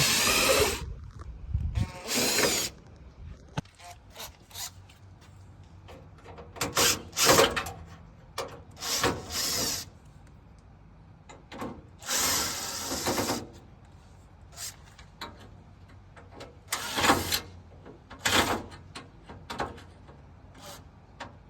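A power drill backs out screws from a Toyota truck grill, with several short, loud whirring bursts separated by pauses, bits of handling and clatter between them.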